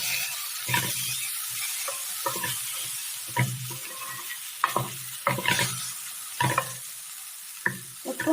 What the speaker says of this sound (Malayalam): ഇതിലേക്ക് നമ്മൾ വേവിച്ച് വെച്ചിരിക്കുന്ന ഗ്രീൻ പീസ് ചേർത്ത് കൊടുക്കാം.